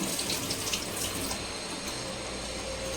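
Water pours steadily into spinach for cooking, a continuous close hissing splash that holds even throughout, with no talking.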